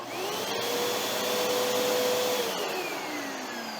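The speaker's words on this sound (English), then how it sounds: "So now we're ready to test the 12 amp vacuum" A 12 amp vacuum cleaner runs on an inverter power test, a loud, steady whine with a motor tone that holds and then slowly drops as it winds down.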